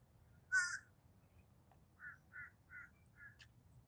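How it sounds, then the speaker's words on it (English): Crows call loudly outdoors on a morning walk near courts: one sharp, harsh caw, then a short run of four evenly spaced caws against a low background rumble. "the birds are loud this morning"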